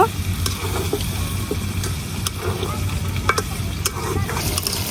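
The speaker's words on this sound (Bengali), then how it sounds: "মশলাটা ভালো করে মাংসের সাথে মিশাইয়া" Spices and chicken pieces stir-fried in a pan for dhaniya chicken, a steady close sizzle with scraping spoon strokes and occasional sharp clicks, running continuously.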